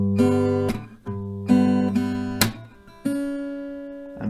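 Acoustic guitar played slowly, mixing strummed chords with single picked notes, a few loud strums decaying into ringing notes, close and alone with no talking.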